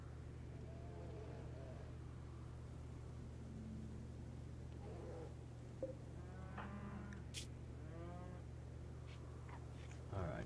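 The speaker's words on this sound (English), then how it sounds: "3 sheep." Three sheep bleat in the video game Rimworld, a few wavering cries around the middle and end over a steady low hum, with quiet talk in places.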